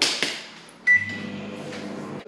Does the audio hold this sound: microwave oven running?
yes